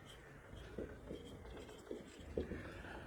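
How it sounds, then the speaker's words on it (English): Marker or chalk writing on a board in a classroom, several short scratchy strokes spaced irregularly, close and fairly quiet. "So let's write it."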